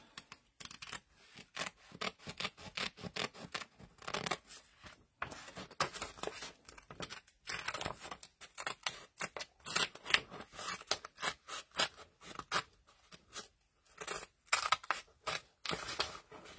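Tim Holtz micro serrated mini snips trimming paper, a long run of close, crisp snipping cuts in an irregular rhythm with brief pauses between bursts, no talking.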